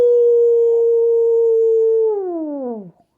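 A pet cat lets out one long, loud, steady howl held for about two seconds, then its pitch slides downward and fades, close by with no talking.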